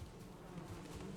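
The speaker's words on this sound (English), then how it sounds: "overlooking the garden and the bees" Buzzing of bees in a video game garden, a faint steady insect drone with no talking.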